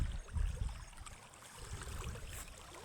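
Rainwater from the previous night's downpour keeps trickling and rushing steadily along a farm road, a faint continuous wash with no voices.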